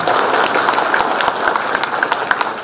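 Audience applause at an architectural project presentation, a dense, steady patter of many hands clapping that fills the short stretch evenly, with no voices over it.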